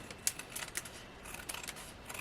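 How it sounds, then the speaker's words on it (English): Scissors cut paper for cardmaking in quick, faint snips and crisp clicks, close by and without talk. "let's just bring in my scissors"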